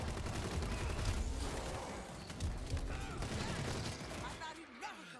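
Gunfire bursts and rattles in the zombie shooter World War Z. The rapid shots are dense and loud, layered over game noise and heard under voices talking.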